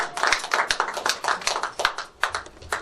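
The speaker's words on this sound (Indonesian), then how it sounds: "Tepuk tangan." A small crowd at a Jakarta gospel singing event claps in a brisk, uneven burst of applause, close and steady for a few seconds before it thins out.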